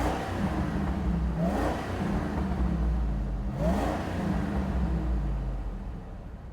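A stock 1999 Ford Lightning SVT pickup with a supercharged engine revs hard twice, each blip climbing sharply and falling back to a loud, steady idle rumble, heard up close with no voices.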